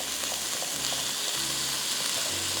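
Half a kilo of beef mince frying in a pan, a loud, steady, close sizzle with a low bubbling undertone, unbroken and without talk.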